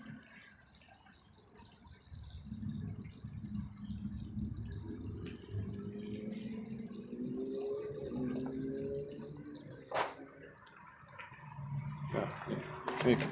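Water pouring steadily into a container and filling it, a continuous low gurgling flow heard at close range, with a brief splashy burst near the end.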